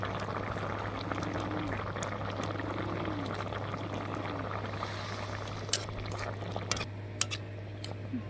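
Pabda fish curry with pumpkin bori and potato boiling in a pan as the spiced fish pieces go in, a steady low bubbling simmer with a constant hum underneath and a few sharp clinks near the end.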